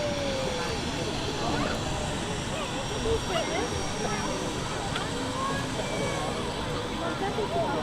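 Aircraft at Manchester Airport, a steady, continuous jet engine roar at moderate distance that holds level throughout, with people talking over it.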